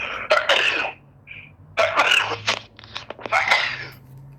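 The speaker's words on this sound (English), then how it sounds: "Were those sneezes?" Several sharp bursty sneezes in quick succession, fairly close and loud, with brief pauses between them over a faint steady background hum.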